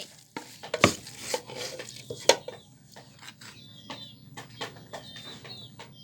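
Roasted rice and lemongrass go into salted fermented fish, heard as close wet stirring and mixing with scattered knocks and scrapes against a bowl in an uneven rhythm.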